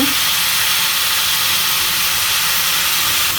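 Bottle gourd pieces frying in hot oil with cumin, a loud, continuous, dense hiss that holds steady at close range with no talking over it.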